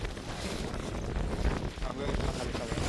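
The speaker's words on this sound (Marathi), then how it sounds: "वारा मजबूत आहे वरती." Strong wind roars across the microphone on a foggy mountain top at Harishchandragad's Kokankada cliff. The rumble is loud, steady and gusting, with no clear speech.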